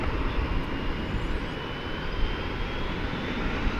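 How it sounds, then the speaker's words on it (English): An Airbus A321 arriving at DFW airport from Tucson, its jet engines giving a steady, loud broadband roar that holds evenly throughout with no speech. "an Airbus A321."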